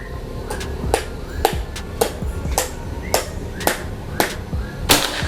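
A series of sharp, snappy PCP air rifle shots pop at fairly regular intervals, about eight in a row, crisp and close against a quiet outdoor backdrop.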